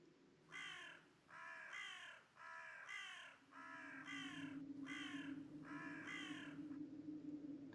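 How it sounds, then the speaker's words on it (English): Ravens cawing, a regular run of six or seven harsh, repeated calls in steady rhythm, fairly faint and distant, with a low hum rising underneath toward the end. "Could you hear the ravens?"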